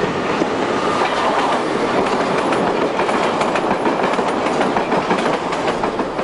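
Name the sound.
Berlin S-Bahn class 37/41 train entering Jannowitzbrücke station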